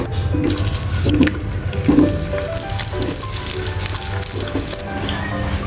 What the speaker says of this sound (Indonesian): Sudah panas, masukin nugget.